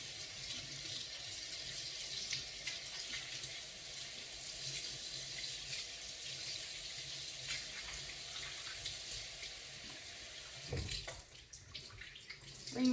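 Tap water runs into a sink while a cleaning cloth is rinsed of food chunks, a continuous, fairly soft splashing stream that stays steady and then breaks into brief handling noises near the end.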